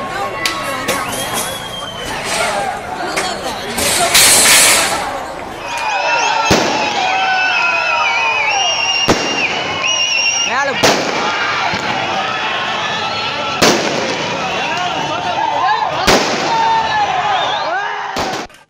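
Firecrackers set off by fans right beside a police vehicle during a crowded fan gathering in Erode, Tamil Nadu, with several sharp, loud bangs standing out against steady crowd noise.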